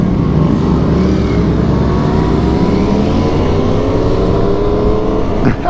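A Yamaha R3 motorcycle revving and accelerating, a loud, close engine note rising steadily in pitch over several seconds, alone without talk.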